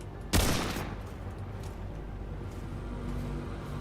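A single sharp gunshot from a weapon in the video game Remnant 2, loud and close at the start, then a low steady rumble of game ambience.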